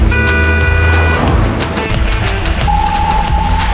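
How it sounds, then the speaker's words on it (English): A school bus rumbles loud and close, its engine drone steady for nearly four seconds, with a sustained tonal beep rising over it in the second half and no voices. "S for school bus."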